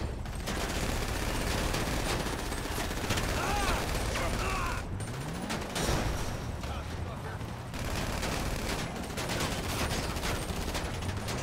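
Sustained rattling gunfire from a GTA Online heist mission, dense bursts running nearly the whole stretch with a brief dip midway, loud and continuous.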